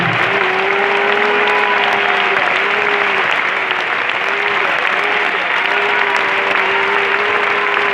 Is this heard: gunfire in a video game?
no